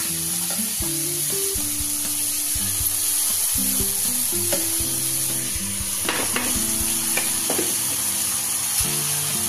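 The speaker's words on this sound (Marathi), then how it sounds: "हा दलिया पण हलवून घ्यायचा आपल्याला थोडा याच्यामध्ये चांगला।" Broken wheat (daliya) sizzles steadily in a pan for a veg daliya lunch while a spoon stirs it, with scraping clinks and occasional louder scrapes against the metal, close and continuous without talk.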